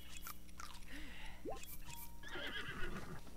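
A horse in Zelda: Breath of the Wild neighs with a rising, wavering whinny in the middle, followed by softer snorting and chewing-like sounds over a steady game backdrop.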